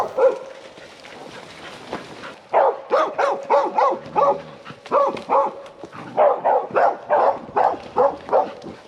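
A herding dog barks repeatedly while cows are driven through timber in high-country meadows, giving a run of sharp, closely spaced barks over steady outdoor background noise, loud and near.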